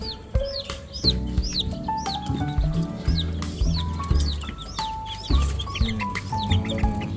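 Native chickens in a pigeon loft clucking close by, with repeated cackles and squawks in irregular bursts and bird calls over a busy, lively background.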